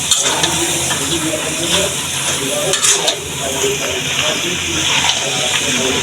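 Leafy greens tossed into a curry of boiled meat cooking in a pan, a loud steady sizzle with stirring scrapes and clinks, close up, a voice faintly under it.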